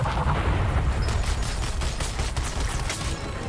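Shotgun fire in Suicide Squad: Kill the Justice League, a dense run of loud booming blasts layered over continuous rumbling battle noise, no talking.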